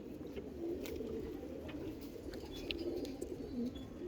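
A pigeon coos softly in repeated low, throaty phrases, fairly faint and close, with a few light chirps and clicks around it.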